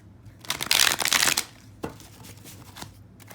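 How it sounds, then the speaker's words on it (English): Playing cards riffle-shuffled during a tarot-style reading, a close burst of rapid fluttering snaps lasting under a second, then a few softer taps and slides of the deck. "One more shuffle."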